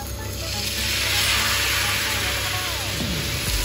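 Crêpe batter cooks in a hot frying pan, giving a steady, close sizzling hiss that holds evenly for a few seconds with a faint scrape near the end.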